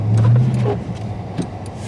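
A 2022 Dodge Charger Scat Pack Widebody gets a little throttle on an unplowed, snow-covered road in a blizzard, giving a brief, deep engine rumble that fades into muffled road noise.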